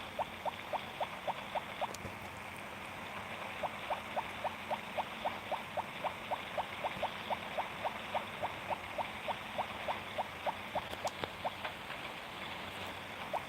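Rain in the farming game Harvest Moon: Friends of Mineral Town, a steady soft patter under a quiet, evenly ticking pulse.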